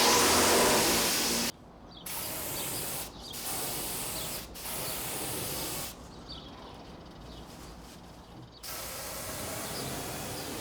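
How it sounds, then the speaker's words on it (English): Compressed air blowing sanding dust off a sanded wood surface before lacquering, loud close hissing bursts separated by short pauses as the nozzle is triggered on and off. "Now, I'm going to blow this off real quick"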